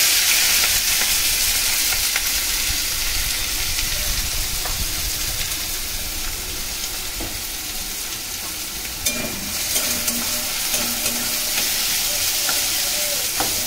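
Chopped onions hitting hot refined oil in a pan, giving a loud, dense, continuous sizzle up close with occasional stirring scrapes.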